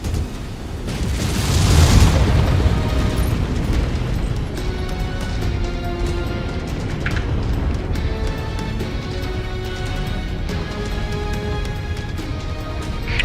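In MechWarrior 5, a facility blows up with a heavy, booming explosion that swells early, then settles into a long, rumbling roar with scattered crackles and debris hits.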